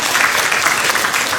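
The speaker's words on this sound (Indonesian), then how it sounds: "Dan tepuk tangan juga buat semua pelaku UMKM yang ikut secara virtual" A crowd at a soft-launch event for an online store, with the Governor present, breaks into a brief burst of loud, dense clapping for small business owners.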